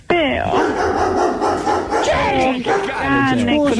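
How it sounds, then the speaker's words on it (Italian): Dog yipping and whimpering in excited bursts close by, high wavering cries interleaved with overlapping talk throughout. "Cane, cosa fai? Mi piace il tuo cane"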